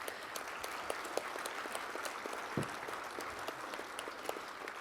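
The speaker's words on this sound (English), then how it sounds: "let's give a huge round of applause to our panelists" Conference audience applauding panelists at a water conservation seminar, a soft, distant, even patter of clapping with a few louder individual claps.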